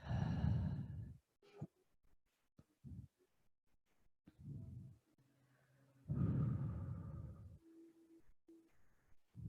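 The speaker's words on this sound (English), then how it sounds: "Breathe." Slow, deep yoga breaths during a hatha flow, a long audible exhale at the start and another midway, with softer breaths and pauses between, close and intimate with no talking.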